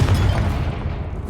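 A Confringo fire spell blast goes off in Hogwarts Legacy: a loud, dense boom at the start that rumbles and slowly fades over about a second, with no voice.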